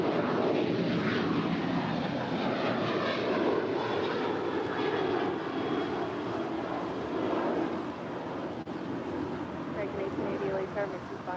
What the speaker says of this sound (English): This is American Airlines Flight 669 departing to Chicago O'Hare. It's a Boeing 737-800.